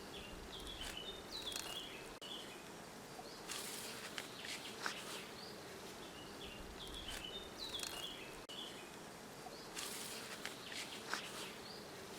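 Honey bees buzz steadily around a beehive during honey harvesting with bee escape boards, a continuous droning hum with individual bees whining past up close, no talking.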